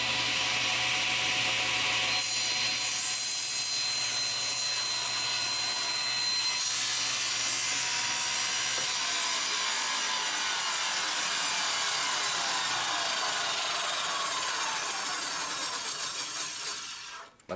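A miter saw cuts through wood with a loud, sustained sawing whine, its blade winding down and then stopping near the end; no talking.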